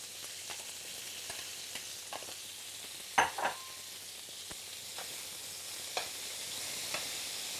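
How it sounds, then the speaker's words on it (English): Peppers cooking in olive oil in a pan give a soft, steady sizzle with scattered pops and a couple of sharper clinks partway through, close and alone without talk. "We're going to put a little olive oil in them as well. Let our peppers cook for a few minutes there."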